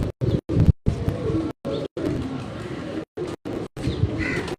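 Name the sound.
pigeons cooing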